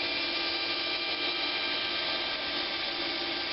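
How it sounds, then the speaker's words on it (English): A bandsaw runs steadily while cutting pieces of wood into a blank for woodturning, a constant loud close whine and hum with no breaks or voices. "I'm going to get these pieces on the bandsaw"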